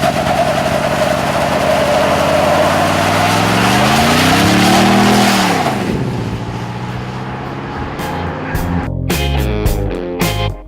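Engine of a 2015 Toyota Tundra TRD Pro pickup revs up and falls back in a loud sweeping growl, then settles to a lower idle while a voice talks over it.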